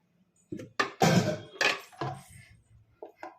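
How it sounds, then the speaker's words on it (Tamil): Two ice cubes dropped into a glass for palm fruit juice give a few sharp clinks and knocks, close and fairly loud, spaced irregularly with quiet gaps between them. "ரெண்டு துண்டு ஐஸ் கட்டி போட்டிருக்கிறோம்"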